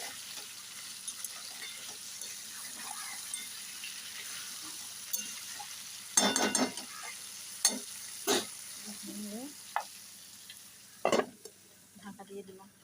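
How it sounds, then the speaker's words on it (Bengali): Crab curry cooks in a wok, a soft continuous sizzle under occasional spatula scrapes and clinks against the metal, with a few sharper knocks, close and fairly quiet. "নাড়ছি।"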